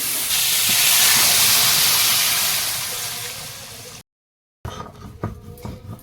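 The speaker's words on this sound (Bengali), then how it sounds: "এবারে জল দিয়ে দেবো" Water poured into a pan of frying potatoes gives a loud, broad hiss that swells and slowly fades, followed by a short gap and then softer clattering noises.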